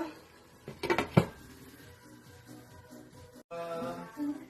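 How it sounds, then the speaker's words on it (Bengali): Metal clatter of a lid and spoon against a pan as shrimp bhuna is stirred, a brief cluster of close clinks early on followed by softer scraping and low kitchen noise. "ঢাকনাটা উঠিয়ে এভাবে মাঝে মাঝে একটু নেড়ে দিতে হবে"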